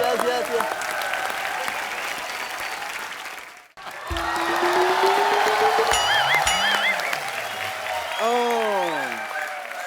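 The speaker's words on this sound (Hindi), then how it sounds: "Can we hear for Satyanarayan जी? जोरदार तालियां।" A studio audience at a comedy show gives loud, sustained applause for Satyanarayan ji, briefly dropping out before swelling again, with people talking and musical tones sounding over the clapping.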